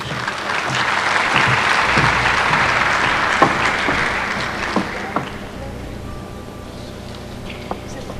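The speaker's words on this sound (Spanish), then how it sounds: "para quien les pido un fuerte aplauso" Steady audience applause fills a scientific conference hall on metabolic syndrome, strong at first then fading to scattered claps and light room noise with a few sharp knocks.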